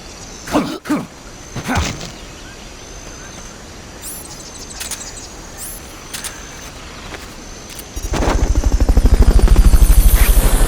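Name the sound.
helicopter in a video game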